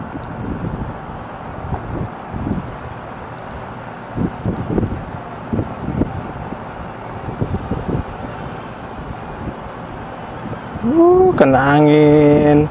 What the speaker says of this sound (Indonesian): Kena angin.